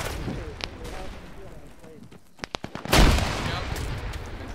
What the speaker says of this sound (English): Is that the Legion spamming those grenades